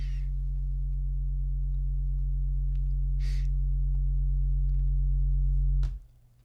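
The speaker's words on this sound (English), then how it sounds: "So we are canceling our primary sine wave out by about 72 dB" A steady low sine test tone sounds inside an audio plugin, holding constant with faint clicks scattered over it, then abruptly cutting off near the end.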